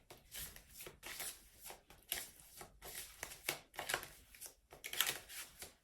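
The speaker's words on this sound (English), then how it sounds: "I just picked up this deck of cards and started shuffling." A deck of cards being shuffled repeatedly during a card reading, with steady riffling bursts and soft slaps recurring close to the listener, no speech.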